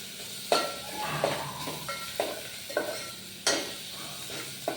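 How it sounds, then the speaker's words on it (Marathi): Turmeric and coriander leaves roasting in hot oil for dal tadka, a soft sizzle broken by several distinct spoon scrapes and clinks against the pan, close and moderately quiet. "तर इथे थोडे हळद टाकून घ्यायची आहे आणि कोथिंबीर पण तेलात टाकायची"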